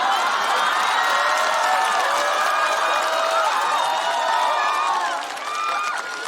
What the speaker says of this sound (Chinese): 听懂掌声。